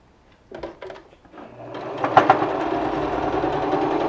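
A sewing machine stitches the seam of a fabric face mask, starting with a few short separate bursts and then running into a steady, continuous whir close by.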